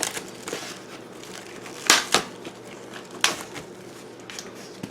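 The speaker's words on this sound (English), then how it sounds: "my cleaver, and we're going to cut this meat down so that it'll fit in this bowl" A cleaver chopping country-style pork ribs cut from pork butt on a small board, with several sharp, separate impacts spaced a second or so apart over quieter background rustling.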